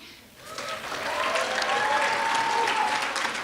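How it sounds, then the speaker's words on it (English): An audience at a hospitality industry awards banquet applauds, a dense, steady clapping that swells quickly and holds at full strength, with a few faint tonal whistles mixed in. "So let's offer them a big round of applause."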